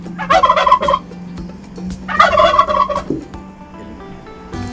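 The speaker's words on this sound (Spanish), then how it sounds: "El pavo gluglutea." A turkey gobbles twice in quick, warbling rattling bursts, loud and close, with a short pause between the calls and a low background hum.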